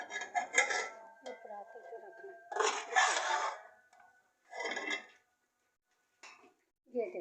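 Spoon scraping and clinking in a pan while a panjiri mixture is stirred and roasted, several short metallic bursts separated by near-silent gaps.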